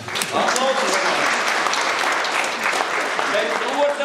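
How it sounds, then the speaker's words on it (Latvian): An audience at an anniversary concert of a men's vocal ensemble in a culture house bursts into loud, sustained applause, dense clapping continuing throughout with voices mixed in. "Aplausi, Ilmārs"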